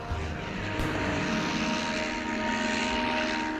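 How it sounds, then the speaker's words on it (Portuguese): A propeller-driven reconnaissance plane launches by catapult from an early American aircraft carrier during the Pacific War, its engine droning steadily and loudly with a faint rising whine. "Este aqui é para lançar aviões de reconhecimento com uma catapulta."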